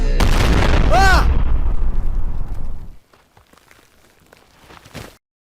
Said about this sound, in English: That last explosion threw me into this incredibly hard rock.